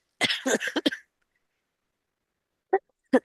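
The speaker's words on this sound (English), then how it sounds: "it is so embarrassing to have a cough when you are a speaker." A speaker's brief coughs during a talk, two short separate bursts heard alone after a stretch of speech that ends about a second before them.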